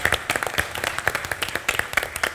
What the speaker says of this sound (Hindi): जोरदार तालियां फॉर बीइंग अ स्पोर्ट